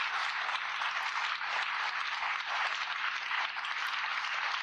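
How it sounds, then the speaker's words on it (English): Steady, dense audience applause from a crowd at a stage hypnosis show during a small-town Iowa corn festival, sustained evenly without pauses or talk. "Give them a great big round of applause, ladies and gentlemen."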